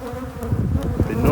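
A dense swarm of agitated honey bees buzzes loud and close around a phone, a steady droning hum with no voices, during a heather honey harvest.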